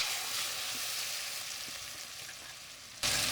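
Melting butter for homemade desi ghee in a kadai gives a soft, even sizzle that holds steady before a sudden louder burst near the end.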